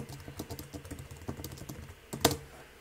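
Rapid tapping on a computer keyboard as a note is typed, a close, uneven run of light keystrokes with a brief louder burst near the end, no voices.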